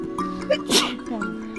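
A single sharp sneeze bursts out briefly, close by, amid a faint background murmur.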